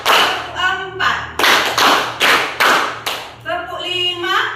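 Children in a classroom clap in unison during an ice-breaking counting clap game, sharp group claps in short rhythmic bursts alternating with a teacher's spoken counting cues.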